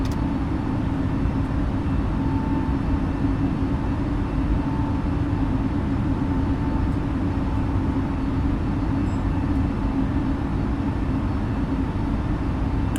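Steady, loud broadband roar of airliner jet engines at reduced climb thrust after takeoff in Microsoft Flight Simulator 2020, a continuous cabin-like drone with a faint tonal hum, no talking.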